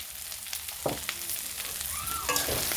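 Potatoes frying with sour leaves, turmeric and cumin for an Assamese fish curry, with a steady sizzle and a few scraping, clinking stirs of a utensil against the pan.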